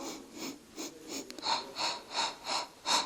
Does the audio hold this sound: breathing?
yes